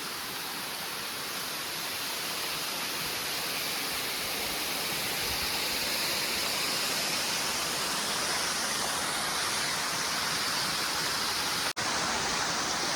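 Adahalena waterfall near Elpitiya pours in a steady, loud broadband rush, a dense continuous roar of falling water heard up close with no voices.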